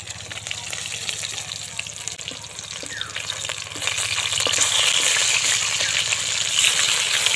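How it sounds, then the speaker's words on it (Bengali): Rohu fish pieces frying in hot oil in a kadai, a steady close sizzle that grows louder partway through, with occasional soft turning noises. "আস্তে আস্তে উল্টে দিতে হবে, ভালো করে মাছগুলো ভেজে নিতে হবে"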